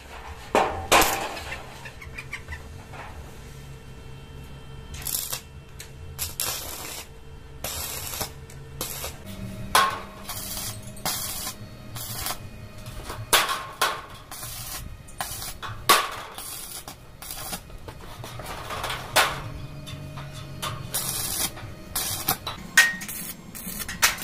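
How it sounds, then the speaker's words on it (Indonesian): Iron for a sliding gate is welded in short, sharp crackling bursts, repeated irregularly with quiet gaps and a faint background hum, close and moderately loud with no talking. "Kita las dulu ya."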